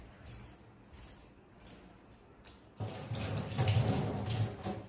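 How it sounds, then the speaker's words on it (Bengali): Kitchen tap water runs while someone washes their hands, starting suddenly after a quiet moment of faint clinks and then gushing steadily and fairly close. "হাতটা ধুয়ে নিই।"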